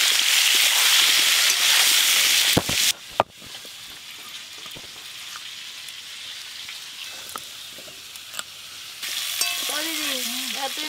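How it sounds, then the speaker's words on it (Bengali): Potatoes and papaya frying in mustard oil in a village kitchen, a steady close crackling sizzle with a few sharp knocks and clatters, and a voice briefly talking near the end. "সরষের তেল, আলু আর পেঁপে একসঙ্গেই ভেজে নেব।"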